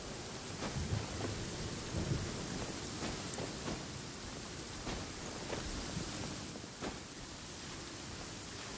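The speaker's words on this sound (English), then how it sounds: "If you're scared of lightning, hide now." A lightning storm in the video game Genshin Impact: continuous rain hiss with several rolling thunder rumbles and sharp cracks, loud and close, with no voices.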